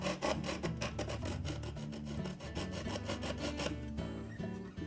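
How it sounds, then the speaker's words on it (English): A hacksaw cuts through a Whirlpool refrigerator shelf rail in quick, steady back-and-forth rasping strokes, loud and close, with no talking. "we'll carefully take our hacksaw and we'll just cut it to the outside edge of that line."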